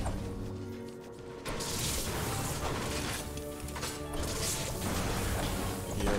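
Repeated smashing and crashing blows as apparatus is broken apart for screws in the video game Fortnite, loud impacts in bursts over a busy game background.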